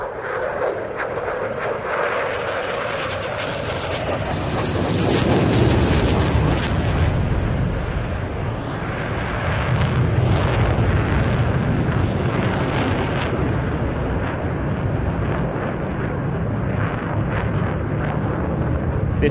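A Tranche 1 Eurofighter Typhoon air defence fighter roars through a half Cuban and knife-edge recovery at the Bournemouth Air Festival, a loud, continuous jet rumble that swells and surges with wind buffeting and no talk.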